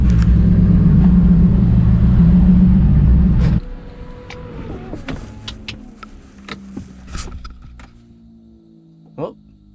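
A turbocharged 900hp Nissan 370Z rumbles loudly and steadily, then the engine note cuts off abruptly, leaving quieter mechanical clicks and faint hiss from the turbo setup, with a voice talking underneath.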